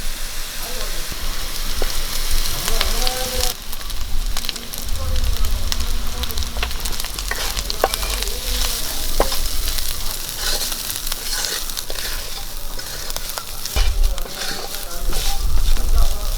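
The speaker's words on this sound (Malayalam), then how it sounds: "വൃത്തിയാക്കി വെച്ചിരിക്കുന്ന ഉണക്ക ചെമ്മീൻ ഇട്ട് കൊടുക്കാം." Dried shrimp frying in a hot pan for an unakka chemmeen fry, giving a loud, continuous crackling sizzle with occasional stirring noises.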